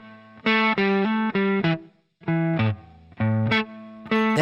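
Electric guitar with a distorted, effected tone plays a riff, with short, clipped staccato notes in quick groups separated by brief pauses, loud and close.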